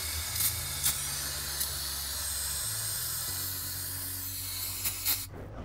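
Aerosol brake cleaner sprays under a car in a continuous hiss lasting several seconds, with a low mechanical hum underneath and a few brief bursts before it cuts off.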